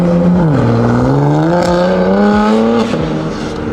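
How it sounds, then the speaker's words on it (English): A BMW F82 with a Valvetronic exhaust revs up loud and close, its engine note climbing, dipping and climbing again before easing off near the end, with no talk over it. "The Valvetronic exhaust on the F82, that sounds so good."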